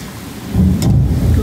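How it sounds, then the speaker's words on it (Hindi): Heavy monsoon rain pours down steadily in a village during a thunderstorm, a loud dense hiss with low rumbling that swells halfway through, while fritters fry nearby. "ये देखो खूब ज़ोर शोर से बरसात भी हो रही है"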